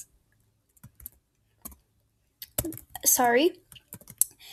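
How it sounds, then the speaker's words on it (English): Typing on a Chromebook keyboard, sparse soft key clicks at first, then a quicker run of taps, with a voice speaking briefly in between. "So now get a text box and open the text box and type in your channel name."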